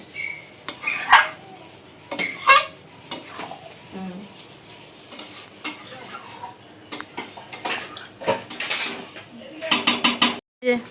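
Rice with cumin fried in ghee is stirred in a metal cooking pot, giving repeated clinks and scrapes of a spoon against the pot at an uneven, busy rhythm, close up.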